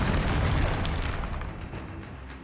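A Confringo blasting spell explodes in Hogwarts Legacy, a loud, dense boom with a sustained low rumble that fades slowly over a couple of seconds, with no voices over it.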